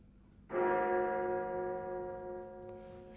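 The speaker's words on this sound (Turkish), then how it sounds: "Üçüncü zil." A theater's third bell strikes sharply in the auditorium and rings on with a long, steady, resonant tone that slowly fades, with no voices present.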